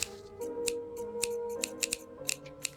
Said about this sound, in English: My shiny pair of scissors should make quick work of this.